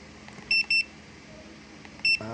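A multimeter on continuity setting beeps while probing an Astron 45-inch smart TV with no power: two short high beeps close together, then a third after a pause, sharp and clear over a quiet background.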